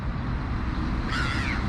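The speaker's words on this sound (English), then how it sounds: "My little crow's here." A crow caws from outdoors, the harsh calls arriving in the latter part over a steady low background rumble.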